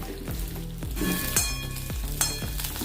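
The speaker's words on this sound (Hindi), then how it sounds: "अभी हम अपनी भिंडी डाल देंगे इसमें।" Okra frying in mustard oil in a kadhai for a dry bhindi masala, a steady close sizzle with sharp crackling bursts and stirring knocks recurring about every half second.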